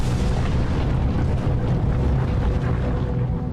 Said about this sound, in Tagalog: hindi inasahan ng mga residente dito ang biglang pagsabog ng Bulkang Kanlaon